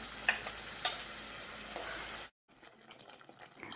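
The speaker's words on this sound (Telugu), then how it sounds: "మనం ముందుగా గ్రైండ్ చేసి పెట్టుకున్న టమాటా పేస్ట్ని కూడా అందులో వేసుకొని బాగా ఫ్రై చేసుకోవాలి" Ground tomato paste fries in a pan for a paneer gravy curry, giving a bright, steady sizzle with a few stirring scrapes, then cutting abruptly to a quieter stretch of soft clinks and faint crackle.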